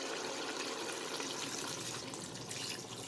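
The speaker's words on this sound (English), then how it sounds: "we'll just have to pour water," Water poured over seasoned beef in a pot to cover the meat for asado, a continuous close splashing and gushing stream lasting a few seconds without talk.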